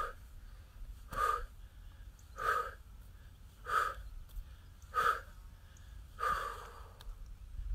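Forceful exhalations during a sunny outdoor morning shoulder and arm-swing exercise routine, five to six steady breaths out at a regular rhythm about every 1.3 seconds, close and clear with no talking over them.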